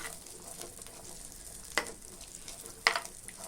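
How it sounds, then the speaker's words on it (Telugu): A cup of shelled sweet corn fries in ghee with a soft, steady sizzle, broken by two sharp utensil clinks against the pan, close and fairly quiet. "ఆ నెయ్యిలో కలిసేటట్టు బాగా వాటిని ద్వారగా వేయించుకోవాలి."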